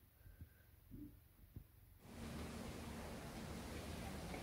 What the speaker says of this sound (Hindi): बैकग्राउंड में आपको झरने और नदी की आवाज सुनाई दे रही होगी।